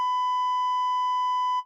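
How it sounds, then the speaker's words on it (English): A steady electronic tone rings out alone, one unbroken sustained beep at a single clean pitch with faint overtones, holding level for well over a second before cutting off abruptly. "that ringing"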